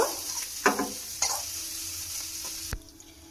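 Faint sizzling of frying in a wok, broken by a few scraping stirs and a sharp clunk before it quiets.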